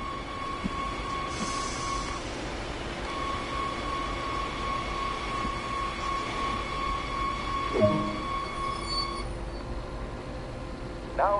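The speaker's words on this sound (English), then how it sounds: "Before traveling too far, let's bring the train to a halt." In the video game Train Sim World 2, a train brakes to a halt under a steady rolling rumble with a sustained electrical whine, a brief squeal near the end.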